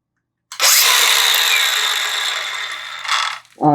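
A DeWalt DCG414 cordless angle grinder whirs up with a sharp onset, holds a loud, steady high-pitched spin for about three seconds, then winds down quickly to a stop.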